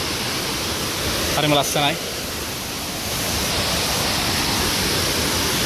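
Waterfall at Horton Plains, a steady broad roar of falling water close by throughout, with a brief spoken remark early on.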